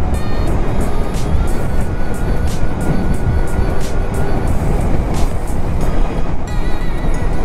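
Steady, loud engine roar from a Neo Sport Café motorcycle with an electronic throttle while riding, heard with heavy wind rush throughout and no talking.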